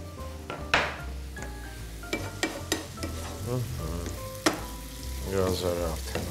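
Food sizzling in a pan, a steady frying hiss broken by sharp clinks and scrapes of a utensil against the pan, heard up close.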